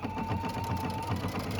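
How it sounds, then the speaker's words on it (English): Sewing machine running a decorative stitch around the top of a fabric wine gift bag, a quick, even needle chatter repeating close and fairly soft. "You stitch around the top using a decorative stitch"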